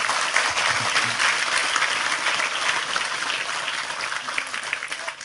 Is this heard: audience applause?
yes